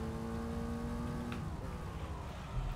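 Gran Turismo 3 car in an arcade-mode time trial, its engine note holding steady and loud under throttle, then shifting pitch partway through as the car comes off the power and reapplies it, with no talk.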